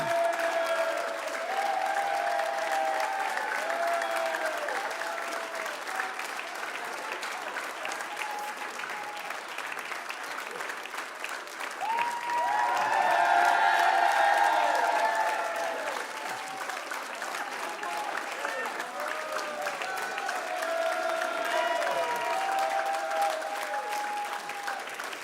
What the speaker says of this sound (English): No, don't, no, keep clapping.